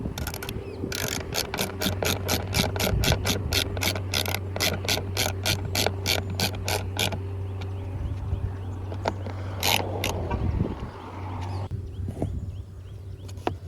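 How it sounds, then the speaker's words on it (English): Screws on a Dodge Journey fuse box panel are hand-tightened with a ratcheting tool, producing a long run of rapid, evenly spaced clicks close by, then a few slower ratchet turns over a steady low hum. "Tighten up those screws."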